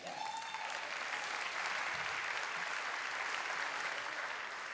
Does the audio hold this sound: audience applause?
yes